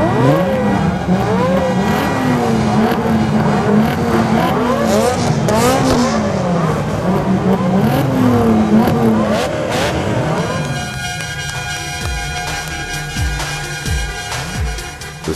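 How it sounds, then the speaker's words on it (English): Several sports cars fitted with Capristo exhausts are started at once and rev hard, a loud, dense roar of engines rising and falling in overlapping waves, then settling into a rougher, throbbing idle with sharp blips. "they were simultaneously fired up on all cylinders on Antonio Capristo's command"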